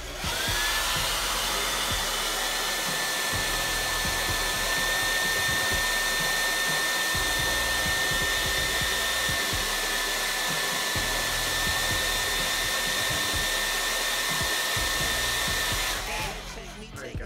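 A hair dryer on its high setting blows steadily into a shoe, a loud continuous whirring roar with a whining tone that runs unbroken for about sixteen seconds before cutting off, with no talking.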